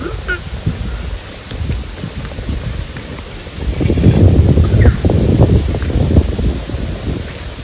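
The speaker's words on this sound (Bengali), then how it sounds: "প্রচন্ড হাওয়া, প্রচন্ড হাওয়া" Strong wind gusts across a riverside outdoor cooking spot, buffeting the microphone with a continuous rushing roar that swells louder partway through, with faint rustling beneath.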